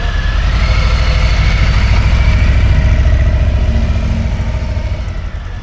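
A new-generation Harley-Davidson Fatboy motorcycle engine rumbles loudly and steadily close by, then slowly fades as the bike pulls away.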